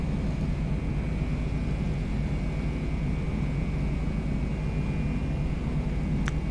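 A Beechcraft Bonanza V-tail light aircraft taxiing gives off a steady, droning piston-engine rumble with a constant low hum, loud and unbroken throughout.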